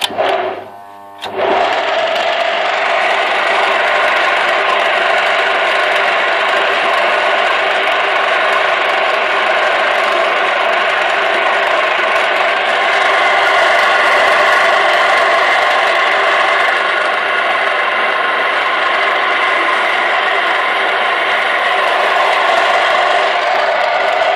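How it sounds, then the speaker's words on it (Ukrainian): A fine-toothed electric machine working potatoes, giving a loud, steady mechanical whine and grinding hum after a brief pause at the start, running continuously without letup. "Так, поїхали картоплю чистити."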